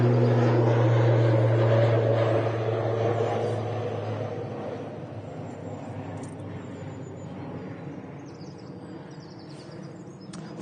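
An ATR 72 turboprop airliner operated by Aer Lingus on the Belfast route at Manchester Airport gives a loud, steady engine drone with a low propeller hum, fading gradually as it moves away.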